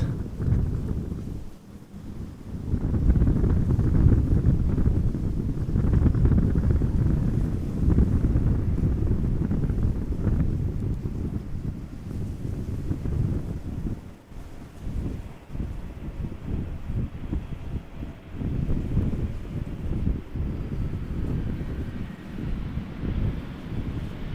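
Strong wind buffets the microphone at Amsterdam Schiphol Airport, a loud, steady low roar with rough gusts across the whole stretch and no speech.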